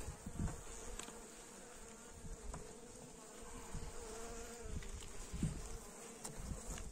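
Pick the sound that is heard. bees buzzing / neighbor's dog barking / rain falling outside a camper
bees buzzing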